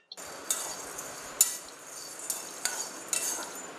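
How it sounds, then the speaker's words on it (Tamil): Chana dal stirred and dry-roasted in a pan, with soft scraping and faint clinks of a spoon against the metal in a few light strokes, quiet and close with no talking. "இந்த கடலைப்பருப்பை வறுத்து எடுத்துக்கலாம்"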